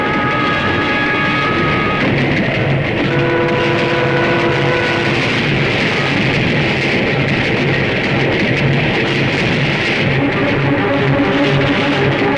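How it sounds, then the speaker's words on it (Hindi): A train in a Hindi action film rolls past without stopping, a loud, continuous rumbling roar with steady tonal hum and clatter that holds at the same level throughout, no voices heard. "ये ट्रेन रुकी क्यों नहीं?"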